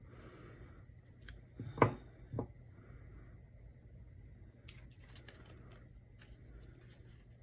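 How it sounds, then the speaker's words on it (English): Scissors snipping ribbon ends during a papercraft tag project, a couple of quick close crisp cuts near the start followed by faint handling rustles. "I'm gonna snip this off so that I can get them about even."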